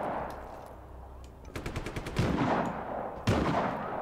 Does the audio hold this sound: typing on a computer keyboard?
no